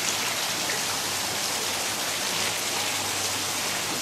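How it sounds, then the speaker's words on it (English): Water drains steadily from a backyard swimming pool, a continuous loud rushing and splashing wash with no breaks and no voices. "I'm draining the pool now."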